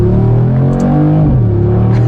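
A 2019 Mercedes-AMG G63 accelerates, its engine a loud, close, continuous drone whose pitch climbs and then dips as it picks up speed.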